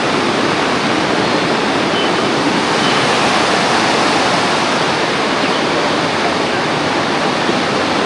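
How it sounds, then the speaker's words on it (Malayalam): A river near Banihal, swollen after four days of heavy rain, rushes strongly in a loud, dense, constant roar of churning water throughout, with no break. "ആകെ വെള്ളം കൊത്തി വലിച്ച് ഒഴുകുകയാണ്"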